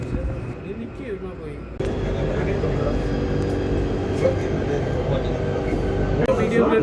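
A Riyadh Metro train carries riders from the front car, with a steady rumbling hum and rail noise that grows louder partway through, while people talk over it.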